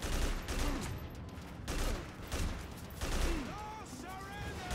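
Bursts of rapid gunfire in the first-person shooter video game Haze come in several volleys with brief gaps, fairly loud and busy, while someone talks over the action.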